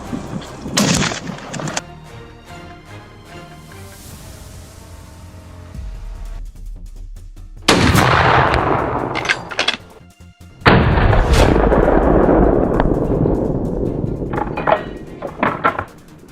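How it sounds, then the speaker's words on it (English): Gunfire rings out during a wild boar hunt on farmland: several loud, sharp blasts separated by quieter stretches, with one long booming burst in the middle. "leaving only the sound of gunfire and a lingering scent"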